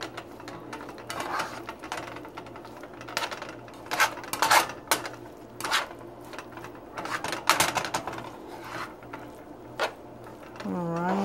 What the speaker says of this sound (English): just continue to stir everything together